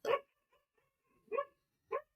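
Dog barking nearby indoors, three sharp separate barks with short pauses between, the first loudest, over near silence.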